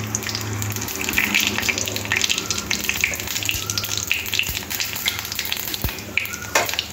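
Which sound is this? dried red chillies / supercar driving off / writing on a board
dried red chillies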